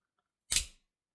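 An automatic knife with a fully engraved handle and mosaic damascus blade snaps open at the press of its button, giving one sharp, close mechanical click that fades quickly into silence.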